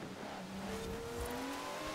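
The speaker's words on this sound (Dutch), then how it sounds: "En hier zit ook een four-rotor in, zo te horen." A four-rotor engine-swapped Nissan Silvia revs hard during a race in Forza Horizon 4, its engine note climbing steadily for two seconds with a rising whine and no talking.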